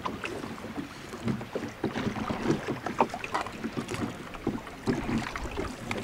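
A small short boat moves on a mountain lake at Štrbské Pleso, with steady splashing and lapping water and light wind buffeting, continuous and close.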